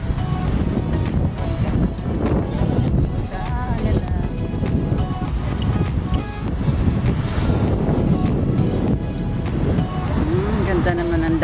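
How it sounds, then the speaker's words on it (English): Ocean surf at Playa del Muro beach in Mallorca, a continuous loud wash of waves mixed with wind buffeting the microphone, with people talking excitedly throughout. "The waves."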